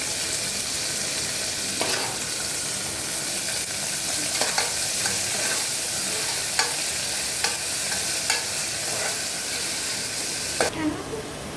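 Onions sautéing in a pan for a plain tomato biryani, a steady dense sizzle with periodic scrapes and clicks of a spoon stirring, fairly loud and close with no talking.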